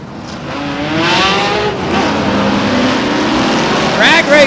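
Race cars roar around the Star Speedway oval in New Hampshire, drag racing down the backstretch, engines loud and droning as they accelerate, with a car passing close near the end.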